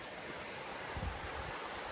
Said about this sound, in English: There's the river flowing along.